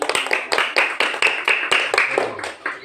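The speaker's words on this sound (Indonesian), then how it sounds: "Luar biasa, tepuk tangan." A classroom of students claps in rhythmic bursts at a teacher's prompt, with about seven or eight sharp, evenly spaced clap groups that sound close, loud and bright, the last few looser and softer.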